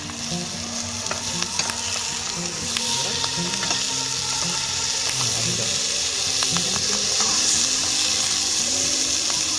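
Ingredients frying for crab jungli polao are stirred in a hot pan, producing a loud continuous sizzle with repeated scraping and clinking of the spoon against the pan, close and unbroken, with faint background voices.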